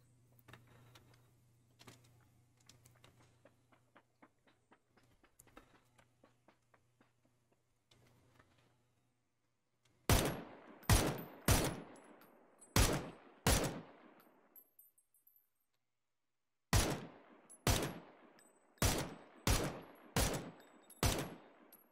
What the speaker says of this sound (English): Sounds like a bot shooting, huh?